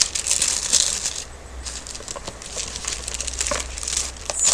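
Paper crinkles and rustles continuously as it is handled and pulled away, close up, with scattered crackles and no talking.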